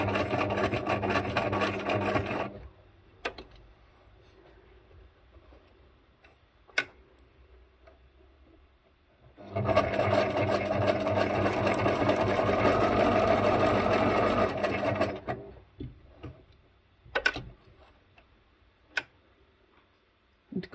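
Sewing machine zigzag stitching on a junk journal tag, two close runs of rapid rhythmic clattering separated by a quiet gap with scattered clicks and taps.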